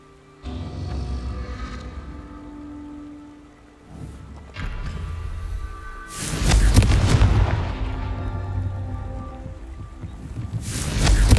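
A fire-blast explosion spell in the Hogwarts Legacy video game, played on PS5, with heavy booming bursts that swell and rumble loudly, one large blast midway and another starting near the end, over a low game background.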